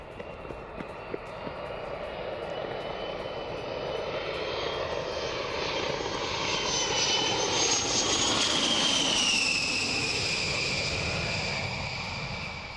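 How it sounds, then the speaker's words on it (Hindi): Military A-10C Thunderbolt jet aircraft engines roar loud and continuous, swelling toward the middle as the plane passes close, with a steady, broad whine and rumble and no voices. "12 A-10C थंडरबोल्ट विमान ब्रिटेन पहुंचे हैं।"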